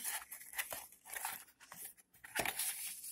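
A small plastic storage bag for a drive crinkling and rustling close up while an MSI Cubi 2 mini PC is unboxed, in irregular bursts of crackling with brief pauses and no talk.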